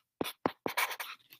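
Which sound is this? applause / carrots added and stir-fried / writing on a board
writing on a board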